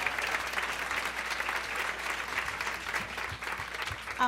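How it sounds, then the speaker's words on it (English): Steady applause from an audience at a tenth-anniversary event honoring people for their hard work, a dense wash of clapping that holds at an even level for several seconds. "Let's give them a round of applause, everyone."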